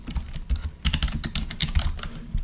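Fingers typing rapidly on an American-layout computer keyboard, a close, busy stream of clicky keystrokes with uneven bursts and brief pauses, no voices.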